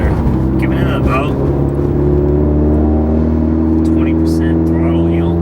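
Steady, loud engine drone of a Stage 2 modified Subaru WRX heard from inside the car under light partial throttle, with a smooth sustained hum and faint voices over it.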